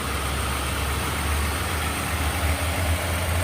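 A car engine idles steadily and loudly throughout, with a low, even rumble and no other sounds on top.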